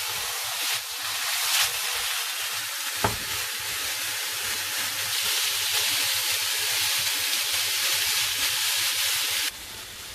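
Cauliflower florets frying in a little oil in a pan for a beef and cauliflower curry, giving a steady, dense sizzle that holds loud and even for about ten seconds, with a brief knock near the three-second mark.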